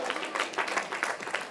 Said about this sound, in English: Three hand claps.